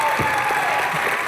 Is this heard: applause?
yes